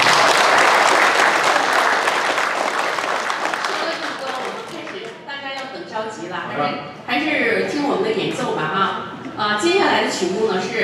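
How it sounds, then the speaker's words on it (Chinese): Applause from the audience at a piano concert, dense and loud at first, then thinning as a voice starts speaking over the fading clapping. "让我们再次用掌声感谢他们。"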